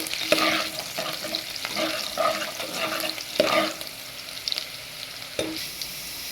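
Onions frying in a pan for tomato dal, a close crackling sizzle broken by repeated scraping strokes of a spatula as they are stirred.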